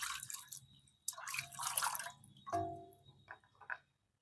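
Drumsticks are rinsed by hand in water, making close splashes and drips in irregular bursts, then a clatter and a few light sloshes before things go quiet.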